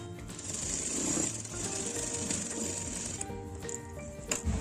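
A sewing machine stitches blouse lining with long stitches, giving a rapid mechanical chatter and rattle at a moderate level throughout. A few small clicks come near the end, with no speech.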